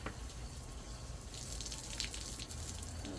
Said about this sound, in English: We're doing a good old rinse around the collar rinsing.